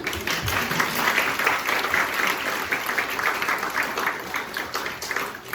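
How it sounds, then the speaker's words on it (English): A luncheon crowd at a Gadsden Arts awards gathering breaks into applause for Beth, a thick, sustained patter of many clapping hands that swells and dips slightly but carries on loud and unbroken for several seconds. "Beth deserves a round of applause"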